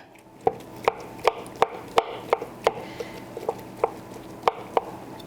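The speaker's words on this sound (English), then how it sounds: "We're going to take our knife and just start chopping a little bit." A knife chops barbecued pork repeatedly against a cutting board, sharp thuds landing at a fairly regular pace, each standing out clearly over a quiet background.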